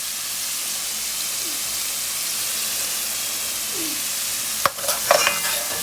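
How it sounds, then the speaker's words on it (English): Sofrito and garlic frying in hot oil for Spanish-style cooking, a steady close sizzle throughout with a brief stir and clatter of utensils near the end. "my oil hot. I add my sofrito."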